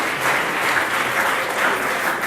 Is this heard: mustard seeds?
no